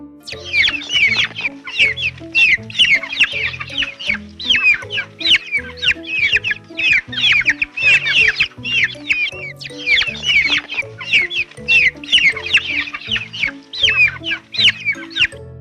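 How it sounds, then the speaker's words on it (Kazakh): A chick peeps in rapid, high repeated bursts throughout, layered over steady backing music of a Kazakh children's animal song. "Мынау балапан. Балапан пи-пи-пи-пи-пи-пи-пи."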